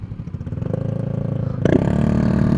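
A motorcycle engine idles with a steady throb, then revs up sharply into a louder, rougher roar during a ride on roads near Tagaytay, with no voices.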